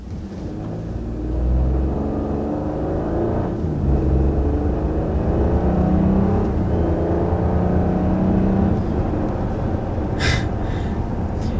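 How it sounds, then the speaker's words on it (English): A 2020 Audi Q8 SUV accelerates with a smooth, subtle engine hum and rising whir heard from inside the cabin, steady and moderately loud with no talk. "I do like the engine note"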